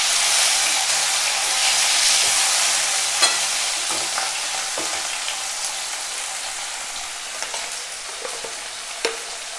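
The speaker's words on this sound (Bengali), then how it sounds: "পেঁয়াজ লাল লাল করে ভেজে নিয়েছি, দিয়ে দেবো টমেটো। টমেটোটা একটু ভেজে নেব।" Tomatoes frying in a pan with onions already browned to a deep red, a steady close sizzle with occasional scraping stirs and clicks of the spatula, no voices, for a Bengali fish curry.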